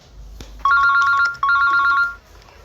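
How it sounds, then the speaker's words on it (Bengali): A mobile phone ringtone plays two loud bursts of bright electronic melody, close by, with a brief gap between them, over a quiet background. "সাইলেন্ট করে দাও ফোনটা।"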